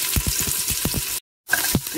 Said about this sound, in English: Need to fry this onion for just a few seconds.